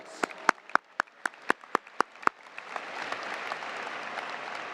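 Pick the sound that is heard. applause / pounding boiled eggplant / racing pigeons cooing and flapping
applause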